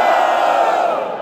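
A rap battle audience at an open trap-edition competition roars and cheers loudly, a dense sustained crowd shout with whoops that holds steady and tapers slightly at the end.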